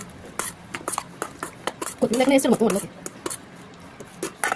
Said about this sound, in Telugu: అంతా కలిసేలాగా మరొకసారి బాగా మిక్స్ చేయండి